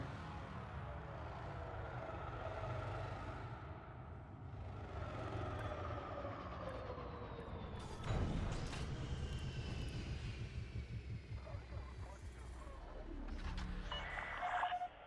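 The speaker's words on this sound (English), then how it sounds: "Gear down. Lowering landing gear." Spaceship in Elite: Dangerous lowering its landing gear and settling onto a starport landing pad, a steady engine rumble with a mechanical clunk partway through, shifting hum afterward.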